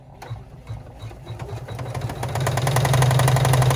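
A sewing machine stitches out an embroidered clutch design, its rapid needle chatter starting up and growing louder and steadier into a fast, even whirring hum.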